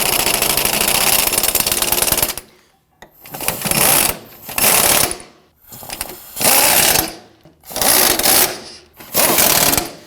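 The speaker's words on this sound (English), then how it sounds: "Now we did just use the impact gun" Impact gun rattles in loud bursts while tightening bumper bracket bolts on a 2015-2020 Ford F-150, one long run followed by four shorter hammering bursts separated by brief pauses.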